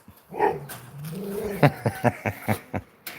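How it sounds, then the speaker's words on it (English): A four-year-old male rescue dog vocalizes up close, starting with drawn-out whines and moans, then breaking into a string of short, sharp yips and barks at a steady rhythm. "I've never had a dog so vocal."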